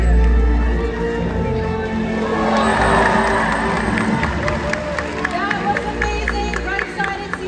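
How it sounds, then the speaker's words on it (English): A large crowd at SeaWorld Orlando's Orca Encounter killer whale show cheers and whoops loudly for a whale's jump, with children shouting among the steady roar, under music and scattered voices. "And when we see it, let's give him a great big cheer."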